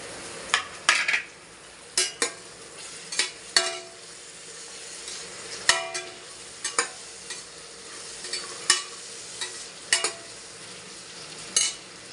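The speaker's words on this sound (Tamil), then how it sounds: "தக்காளி வெங்காயம் வதங்கினதும் நம்ம எண்ணெயில் வதக்கி வச்ச கத்திரிக்காயை போட்டுக்கலாம்." Fried eggplant stirred into sautéed tomato and onion in a pan, with repeated sharp clanks of a spoon against the pot every second or so over a soft sizzle.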